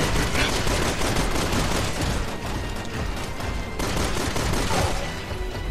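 Dense, continuous bursts of gunfire and explosions in Resident Evil 6 crowding together, loud and unbroken, like a heavy firefight with no pauses.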